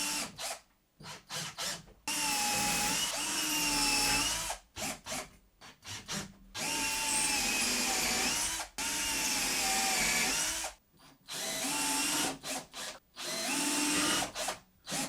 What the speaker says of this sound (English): So yeah, overall, that's a very cool drill.